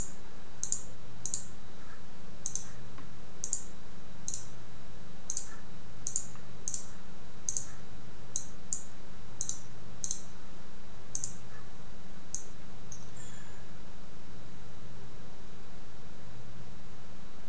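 A computer mouse clicks in the Unreal Engine editor: a dozen or so crisp, faint clicks in irregular succession over a steady low hum, with no talking.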